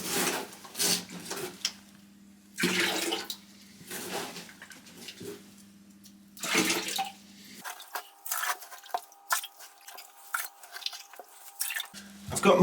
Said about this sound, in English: Got most of the water out, but it's raining so heavily outside that it's filling up as quickly as I can scoop the water out